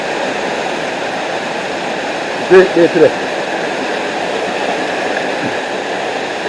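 Steady broadband rush of a waterfall tucked in the hills of Portland, Jamaica, continuous and fairly loud, with a short burst of speech partway through.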